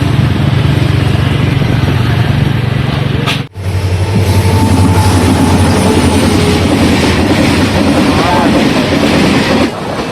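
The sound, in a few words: train passing at a closed railway crossing gate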